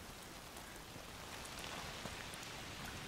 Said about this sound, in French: l'effet de la pluie sur les vêtements est super bien fait